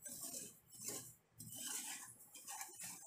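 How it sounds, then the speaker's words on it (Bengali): Semolina being stirred in a pan over medium heat, soft scraping and clinking strokes in uneven bursts, quiet and close. "সুজিটা ভালোভাবে নাড়াচাড়া করতে হবে যাতে পুড়ে না যায়।"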